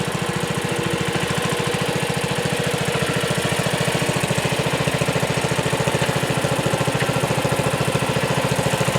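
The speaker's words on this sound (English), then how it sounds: "Now this is my tractor" A Sears Suburban garden tractor engine runs steadily, a fast even mid-pitched putter with a knocking pulse, close and constant throughout with no talk.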